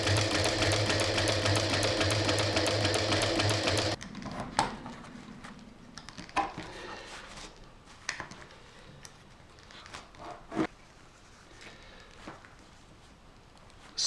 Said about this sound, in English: So what I'm going to do is sew along here